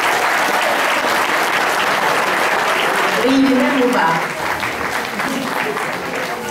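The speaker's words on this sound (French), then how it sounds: "Je pense qu'on peut l'applaudir" Crowd applause at a basketball club event, loud sustained clapping filling the hall while someone speaks briefly over it in French.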